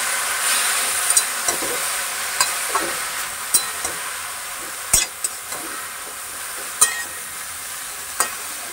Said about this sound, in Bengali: তেলটা গরম হয়ে গেছে, এখন আমি এর মধ্যে দিয়ে দিচ্ছি কেটে রাখা মেথি শাকটাকে